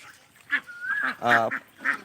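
Peking star ducks quacking: a quick series of short, nasal, honking quacks from close by, with several calls overlapping in just over two seconds.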